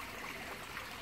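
Water circulating through a homemade pond filter, a steady close trickling and splashing wash with no pauses or voices.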